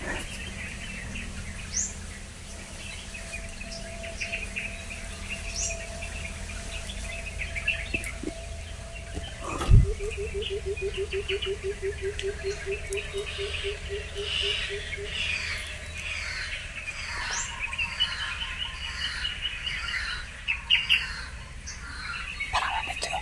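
A bird calls in a forest within a horror video game, repeated chirps and a rapid trilling squawk over dim ambient wind, with a sudden thud partway through.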